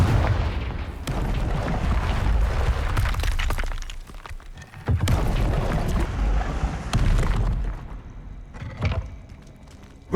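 Confringo fire spell blasts in Hogwarts Legacy, loud booming explosions with shattering debris, in two long bursts separated by a brief lull, then a smaller final blast.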